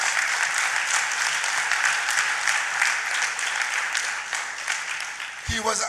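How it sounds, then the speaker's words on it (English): Steady, dense audience applause at a PNM political party meeting in Chaguanas, loud and sustained for several seconds, with voices mixed into the crowd noise and a brief louder burst near the end. "I want you to give him a round of applause."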